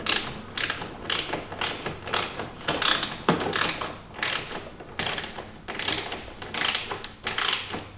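A ratchet wrench cinches up screws on a Corvette C7 radiator, giving rapid, close, rhythmic clicking bursts with short pauses between strokes; no talking.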